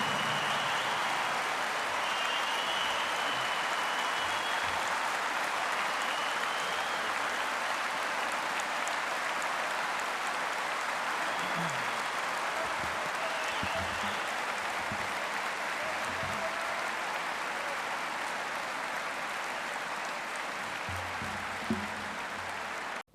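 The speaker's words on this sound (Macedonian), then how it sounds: "Зошто сиот овој аплауз?" Sustained audience applause at a televised talk show, steady and broad for over twenty seconds with a faint voice now and then underneath.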